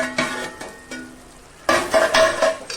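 Chicken pieces cooked with papaya are stirred in a pan: a few scraping, sizzling strokes close by, quieter at first and then louder and denser in the second half, with no talking.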